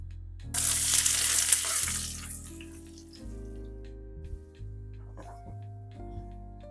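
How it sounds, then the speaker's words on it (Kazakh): Onion and carrot sizzle in a pan, with a burst of loud frying as they hit the hot oil that settles into a quieter, steady crackle beneath low kitchen hum. "Пиязбен морковты жеке қуырам."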